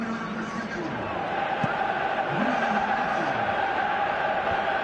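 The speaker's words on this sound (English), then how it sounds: "you can feel and hear how the crowd are reacting to all of this" Stadium crowd in a PS4 football video game, a steady loud murmur of thousands of fans with rising and falling swells of reaction, continuous throughout under occasional faint voices.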